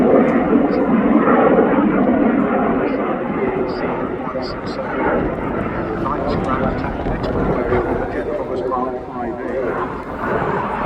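A Jet Provost jet trainer flies over the Southport Airshow, its broad roaring engine noise steady and loud throughout, with a commentator talking continuously over it.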